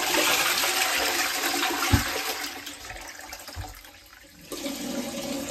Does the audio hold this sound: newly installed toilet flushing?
yes